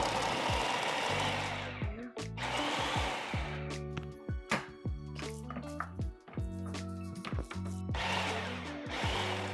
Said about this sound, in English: we're gonna just pulse this a few times